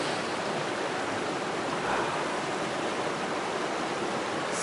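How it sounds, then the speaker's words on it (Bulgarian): Water at Banderishko lake in the Pirin mountains rushes steadily as a dense, even broadband roar, close and continuous with no breaks or voices. "Се спие, само водата не спие. Се движи."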